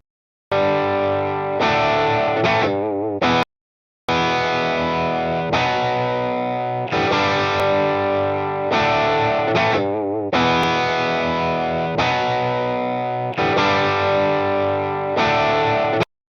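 An electric guitar played through a Tube Screamer Jam overdrive pedal using its special feature rings out in thick, distorted chords with chorus-like shimmer, repeated strummed phrases broken by one brief silent gap, with no talking.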